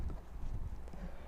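Horses' hooves clip-clop on a street as riders move along slowly, a soft, low, continuous patter of steps heard faintly at a distance.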